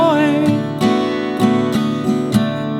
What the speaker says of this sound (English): what I like to play is kind of a hybrid between the guitar part and the bass line